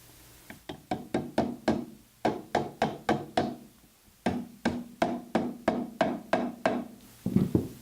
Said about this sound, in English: And that's where we use the hammer.